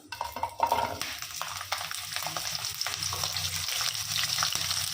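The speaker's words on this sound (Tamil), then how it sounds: "எண்ணெய் சூடாயிடுச்சு. இப்போது நம்ம சின்ன வெங்காயத்தை சேர்த்திக்கலாம்." Small shallots go into hot oil for a village-style country chicken fry. A sharp clatter and splash are followed by a steady, loud sizzle that builds in intensity, with occasional stirring clicks.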